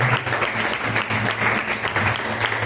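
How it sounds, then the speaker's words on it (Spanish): A church congregation applauds during a sermon, a steady wash of many hands clapping at moderate loudness for the whole stretch, with no voice standing out above it. "Denle un aplauso al Señor, un fuerte aplauso al Señor"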